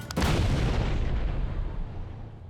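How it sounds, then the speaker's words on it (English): Explosives detonated during a blast test, a single sharp, loud boom followed by a long rumbling decay that fades slowly over a couple of seconds, with no voices. "Measuring the impact of these explosives will help to protect first responders."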